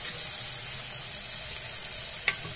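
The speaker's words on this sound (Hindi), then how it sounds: "अब इसमें हम पालक डालेंगे।" Steady, close sizzle of dal frying in a pressure cooker while spinach is added for dal palak, a constant hiss with one brief clatter near the end and no talking.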